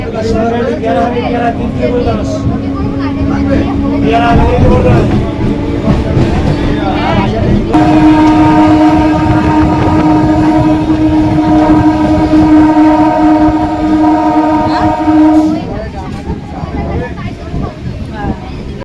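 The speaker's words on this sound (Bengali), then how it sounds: "যখন স্টেশন থেকে ট্রেনটা ফার্স্ট টাইম মানে ছেড়ে বেরিয়ে যায় তখন দেখো কি ভাল লাগছে" A passenger train pulls out of a station at Chakdah, its loud rolling rumble and a long steady horn tone dominating the middle stretch before easing off, with talk heard over the noise.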